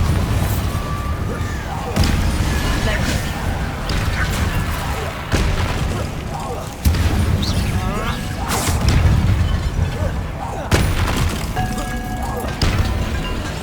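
Bombarda spell blasts in the Hogwarts Legacy video game, a series of heavy booming explosions with whooshes and crashing debris, repeating every couple of seconds amid battle noise and a voice calling out spells.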